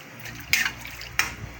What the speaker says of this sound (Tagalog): Nag-add na naman ng tubig.